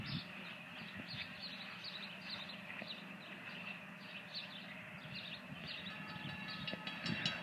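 A train approaches a rail crossing at Strasburg, Pennsylvania. A steady, fairly distant rumble carries faint rhythmic clicking and high ringing tones that swell slightly toward the end.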